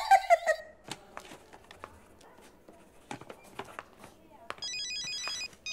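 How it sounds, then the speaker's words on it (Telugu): A mobile phone rings in a hospital ward, a warbling electronic tone heard briefly at the start and again near the end, with scattered footsteps and clattering in a quiet room between. "ఎవరది వార్డులో ఫోన్ పెట్టుకుంది?"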